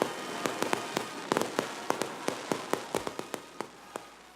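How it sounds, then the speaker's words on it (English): Fireworks at the Wharf grand opening celebration in Washington burst in a rapid irregular series of sharp cracks and pops, some overlapping, heard at moderate distance with no talk. "Fireworks, more than 30 bands, stilt walkers, and even Kevin Bacon, all part of the celebration"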